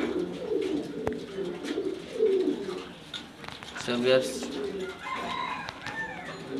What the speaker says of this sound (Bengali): সবে আসছে 2টা জোড়া কবুতর